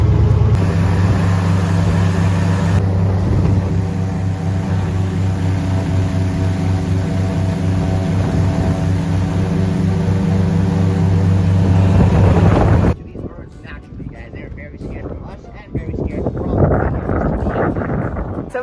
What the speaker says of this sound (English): so we're going to do an airboat tour